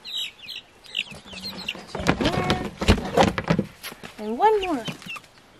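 Young Buff Orpington and Barred Rock chicks peep and cluck close by in short bursts, with clattering handling noises in the middle; a person speaks briefly among the calls.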